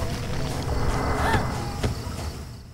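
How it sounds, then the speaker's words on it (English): In the survival-horror game Silent Hill 4, an idling car engine with its door left open gives a low, steady rumble that swells slightly and fades, heard alone amid muted ambient noise. "Engine's still running, the car's door is open."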